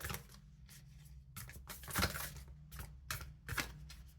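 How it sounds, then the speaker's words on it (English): Soft papery riffles and brushes of tarot cards being shuffled gently, several separate bursts with short pauses over a low steady hum. "I don't want to shuffle these cards too roughly"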